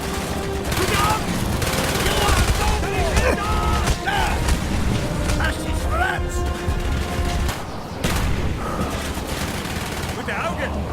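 Gunfire from the video game Call of Duty: Black Ops, with dense bursts of automatic weapon fire and booming shots running throughout, mixed with shouted in-game voices and a continuous loud battle din.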